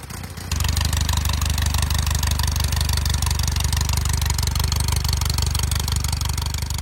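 An old Indian Ace motorcycle engine fires up and runs at a steady, rapid idle, a close, continuous chugging throb.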